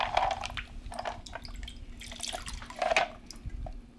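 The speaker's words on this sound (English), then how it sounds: "Now this one we're going to pour into this magic cup, but we need to put an ice in there first." A cocktail poured over gold-flecked ice into a cup makes close, trickling splashes in a few short bursts, with ice clinking faintly between the pours.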